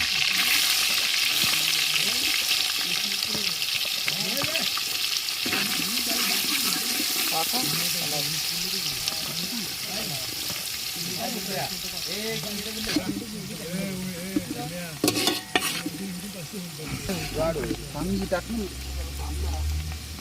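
Onion is dropped into a frying pan already holding fenugreek and curry leaves, giving a continuous sizzle and crackle heard up close under people talking over it throughout.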